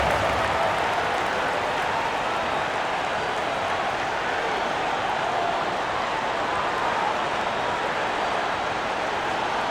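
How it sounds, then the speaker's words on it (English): Basketball arena crowd at a 76ers versus Miami Heat NBA game applauding, a steady, dense wash of clapping and crowd noise filling the whole stretch without a break. "Give yourself a round of applause"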